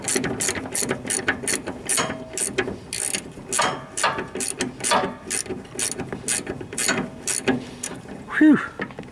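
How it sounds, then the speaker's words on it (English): Ratchet wrench clicking in quick bursts while unscrewing fine-threaded bolts on the steering linkage of a Craftsman riding lawn mower, close and steady with brief pauses and a metallic squeak near the end. "These are fine threaded bolts, so it takes forever to unscrew them."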